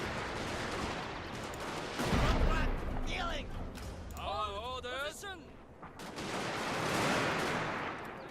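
A line of troops fires a massed volley in the strategy game Fall of the Samurai, a heavy rolling crack of musketry over a steady battlefield din, followed by distant shouting and trumpet-like calls, with someone talking throughout.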